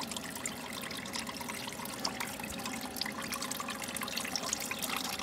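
Dirty water trickles and splashes steadily from a 12-volt wringer washer in a continuous, fairly quiet flow, draining out nearby with no voices.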